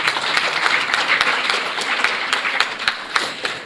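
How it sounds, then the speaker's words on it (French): An audience applauds at a school diploma ceremony in Mbour, Senegal, with dense, sustained clapping and sharp individual claps standing out from the crowd, no speech heard. "vos filles sont magnifiques et méritent d'être applaudies très chaudement"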